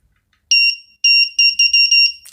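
A homemade continuity tester checking a coil, sounding a shrill electronic beep: one long tone, then a string of short, closely spaced beeps against an otherwise silent background.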